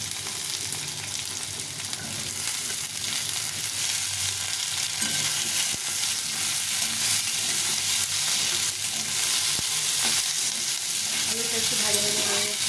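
Potatoes and onions fry in a pan with a loud, close, continuous sizzle, broken now and then by stirring and scraping sounds.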